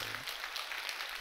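A church congregation claps together during a sermon, a steady, fairly close wash of applause that fills the brief moment evenly with no speech over it.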